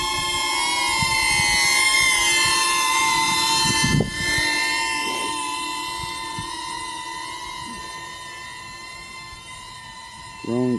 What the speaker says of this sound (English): Drone seems pretty stable with the camera on top.